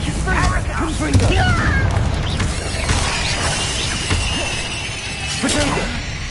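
Fiery Confringo blast spells in the Hogwarts Legacy game, several bursts and crashes packed into a loud, busy combat mix, with a player's voice shouting over the effects.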